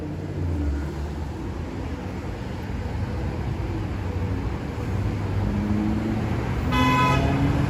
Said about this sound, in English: There's a lot of traffic tonight. It's very loud tonight in Miami.